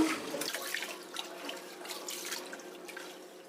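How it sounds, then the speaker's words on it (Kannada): Rice and moong dal being washed in water for pongal, with running tap water and sloshing grains heard steadily and close for several seconds, no voices present. "ಈಗ ಅಕ್ಕಿ ಮತ್ತು ಹೆಸರು ಬೇಳೆನ ಸ್ವಲ್ಪ ಚೆನ್ನಾಗಿ ಒಂದೆರಡು ಸಲ ತೊಳೆದ್ಬಿಟ್ಟು ಬೇಯೋದಕ್ಕೆ ಇಡಬೇಕು"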